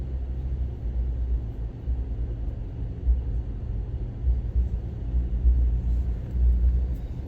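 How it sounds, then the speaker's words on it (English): A Chevy pickup truck passes at a moderate distance, a low steady rumble that swells slightly toward the end, with no voices. "Chevy pickup."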